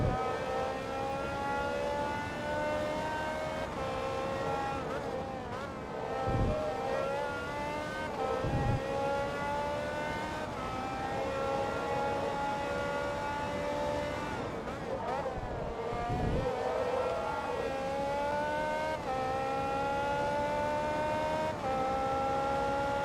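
A high-revving racing car engine from Forza Motorsport 2 screams steadily through corners, its pitch rising and falling through gear changes over twenty-odd seconds, with brief low thumps and no clear talk.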